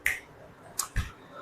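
Crisp finger snaps, sharp and close, with a quick pair close together near the end, isolated against a quiet background.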